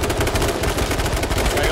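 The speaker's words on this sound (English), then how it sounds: "Guys, we got guys shooting at us." Rapid gunfire during an H1Z1 match, dense close automatic bursts cracking one after another without pause, loud and continuous over the whole stretch, with faint voices in the background.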